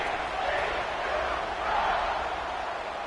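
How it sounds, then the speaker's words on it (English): A stadium crowd at an Arkansas football game keeps up a steady, dense roar after a score, loud and continuous throughout with swelling murmurs and no clear individual voices. "this crowd is buzzing after that last score"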